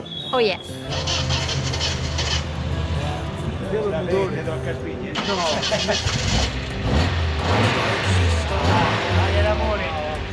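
An inline twin-cam petrol car engine starts and settles into a steady idle in the town of San Severino, Marche, with its low rumble running under continuous conversation throughout.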